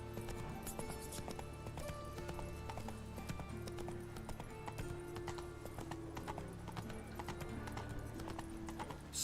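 Roach, the horse in The Witcher 3 video game, gallops with rapid, steady hoofbeats, a continuous clip-clop rhythm layered over game music and ambience, fairly quiet throughout.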